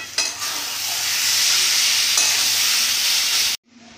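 Fried lentil bori being stirred into pumpkin greens in a pan, a steady loud sizzle with stirring scrapes for about three and a half seconds before cutting off abruptly.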